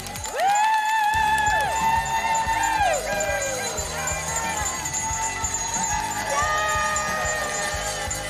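Excited crowd of kids and families cheering, whooping and shouting at a fun day party, loud and continuous, with bright high-pitched cries rising above the din.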